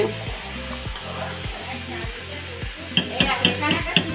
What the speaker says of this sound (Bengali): এই যে এখানে পায়েস হচ্ছে